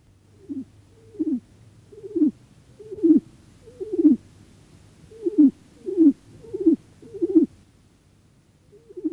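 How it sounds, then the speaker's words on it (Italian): A pigeon coos in soft, low, rolling phrases, about a dozen evenly spaced calls repeating steadily with quiet pauses between. "Tubare di Colombo."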